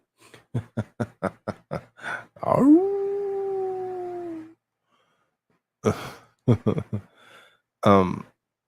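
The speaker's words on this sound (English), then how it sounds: "That's a howl." A dog howls indoors: a run of short, evenly spaced yips, then one long sustained howl that slowly falls in pitch, followed after a pause by a few more brief yelps and a final short howl, close and clear.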